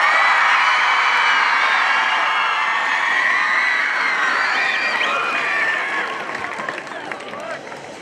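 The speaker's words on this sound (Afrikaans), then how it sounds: "kom ons gee vir ons toeskouers weer eens 'n baie lekker hande klap." Spectators at a Hoërskool Swartkop high school interschool swimming gala clap and cheer in a dense, sustained wash of applause and shouting voices that holds steady, then thins slightly toward the end.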